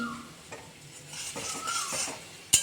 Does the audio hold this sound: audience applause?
no